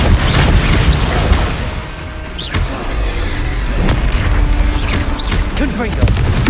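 Repeated Confringo and Bombarda spell blasts in Hogwarts Legacy combat, a string of loud, deep booms and rumbling impacts with whistling magical streaks, close and dense, with a voice shouting between them.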